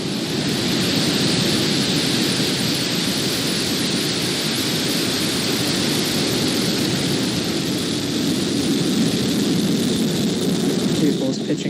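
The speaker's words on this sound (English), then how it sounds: "Ignition and liftoff." A SpaceX Falcon 9 booster on its tenth flight, igniting and lifting off on a Starlink launch: a sustained, broad, heavy roar that rumbles evenly from start to finish without a break.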